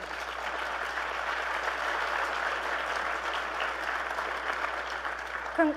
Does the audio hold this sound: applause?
yes